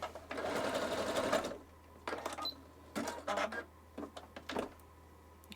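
A sewing machine with a repaired bobbin case runs a wide zigzag stitch in short bursts, its rapid mechanical chatter starting and stopping several times, close and clear.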